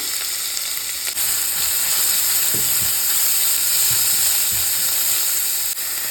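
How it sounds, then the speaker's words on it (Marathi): Vegetables and other ingredients for veg fried rice frying in hot oil, a loud, steady, close sizzle and hiss that runs unbroken throughout with faint stirring knocks underneath. "व्हेज फ्राईड राईससाठी तेलामध्ये एकदमच हे सगळं सामान मी टाकून घेणार आहे"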